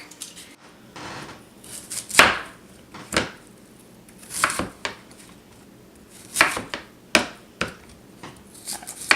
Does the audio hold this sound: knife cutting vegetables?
yes